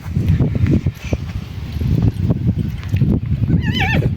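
A mare neighs with a rising, wavering whinny near the end, over close shuffling hoof clops and rustling on the ground.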